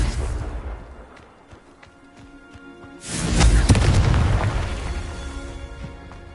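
A Confringo fire spell from Hogwarts Legacy goes off as a single loud, deep boom that swells and rumbles for several seconds, following a quieter stretch of low game ambience.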